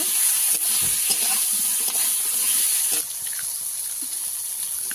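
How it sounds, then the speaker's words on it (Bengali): Oil sizzles steadily as eggplant fries in a pan, with occasional stirring scrapes; the hiss drops slightly partway through but continues to the end. "বেগুনগুলোকে একটু ভালো করে ভেজে নেব"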